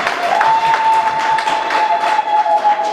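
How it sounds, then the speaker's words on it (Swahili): Church congregation at a fundraiser clapping together in praise, dense steady applause from many hands, loud and close, with a sustained tone ringing underneath. "Tumpigie Bwana makofi"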